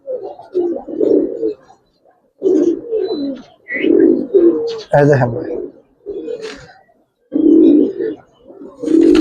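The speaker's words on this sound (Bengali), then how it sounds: "দেখেন কবুতর জোড়া আছে না?" A pair of colorful Giribaz racer high-flyer pigeons coo in low, soft bursts, mostly mixed under close, steady conversation.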